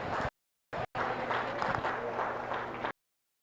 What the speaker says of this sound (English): Let's give those two entries a nice round of applause